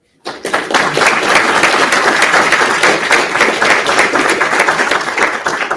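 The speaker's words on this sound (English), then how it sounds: "I'd like to offer a quick round of applause for them" An audience at a UAP oversight hearing breaks into steady applause that starts abruptly and holds at an even, dense level throughout. The clapping is loud and close, with no talk over it.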